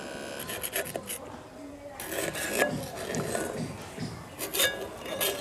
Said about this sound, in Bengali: দিয়ে কাপড়ের সাহায্যে সারা পাশে মাখিয়ে নেব।